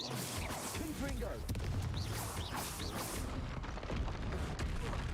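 Confringo explosive spells going off in Hogwarts Legacy on Nintendo Switch, a series of loud booms and crashes over busy battle noise throughout, with some talk mixed in.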